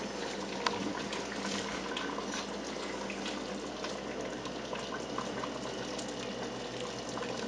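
A pot of chili simmers with a soft, steady bubbling hiss, continuous and close, with faint pops and no voices.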